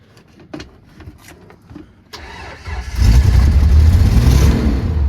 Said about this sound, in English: Okay, now for an actual startup.